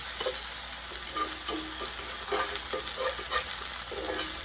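Chicken browns in a hot cast iron skillet with a steady, dense sizzle and faint scraping clicks, close up and continuous, no voices.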